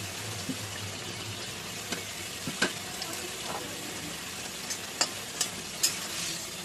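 Doi begun, eggplant in yogurt, cooks in a pan with a soft, quiet bubbling simmer, broken by a few sharp clicks and scrapes of a spoon against the pan.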